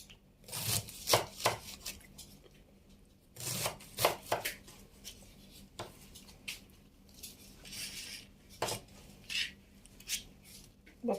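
A knife cuts through raw chicken pieces for broasted chicken in a quiet kitchen, giving soft, irregular chops and slicing thuds that come in short clusters with brief pauses.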